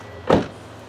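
A single solid car door thump, short and fairly close, with a faint steady hum before and after.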